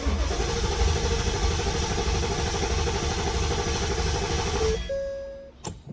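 A 2020 Mustang GT V8 engine cranking during a compression test, a loud continuous mechanical churn and whir that holds steady for several seconds before cutting off abruptly.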